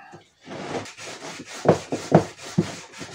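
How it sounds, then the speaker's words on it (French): Rough, scratchy rubbing of sandpaper on the fuel tank of a 1993 Honda CR125R motorcycle being restored, back-and-forth strokes in an uneven rhythm, close and moderately quiet. "On ponce."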